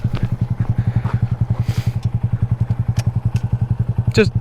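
A motorcycle rides up a hill, with a close, loud, rapid engine pulse thumping evenly and a few clatters over it, ending in a short rising whine.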